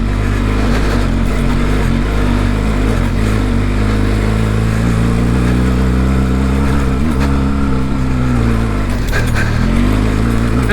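A Benelli TRK 502X motorcycle engine labors loudly and continuously on an extreme hill climb in the Pyrenees, revs rising and dipping as it strains under load, with a brief stutter near the end.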